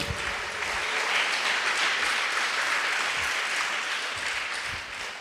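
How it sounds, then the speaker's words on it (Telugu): A church congregation at a Telugu worship service claps loudly together, a dense, steady wash of applause that builds and carries on for several seconds. "ఒకసారి గట్టిగా చప్పట్లు కొట్టండి."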